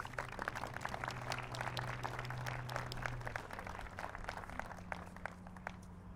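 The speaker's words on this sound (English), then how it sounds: "Let's greet him with a hand clap." Audience applause at a community event for a youth crisis receiving center in Central Virginia, a sustained patter of many hands clapping at moderate distance, fairly quiet, with a low hum underneath.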